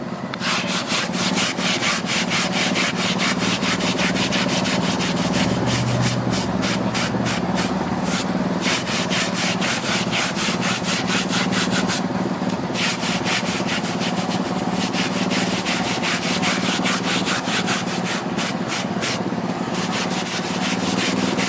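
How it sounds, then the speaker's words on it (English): A brush scrubs vigorously over a car surface during a full auto detail, fast rhythmic back-and-forth strokes, close and continuous with brief changes in pace. "just put your elbows into it and scrub it every which way you can and go past"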